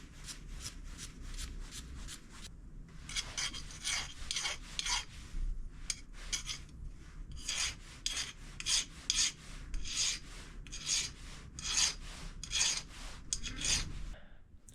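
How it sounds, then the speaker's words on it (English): Wire brush scrubbing a copper fuel line for a motorcycle in a workshop, steady bursts of raspy back-and-forth strokes repeating in quick rhythm, close and clear with no talking. "I'll give it a bit of a clean up with a wire brush"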